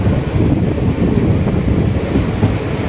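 A Madurai–Coimbatore passenger express hauled by a WAP-4 locomotive runs at speed, a loud, continuous rumble with rattling wheel and carriage noise throughout and no voices.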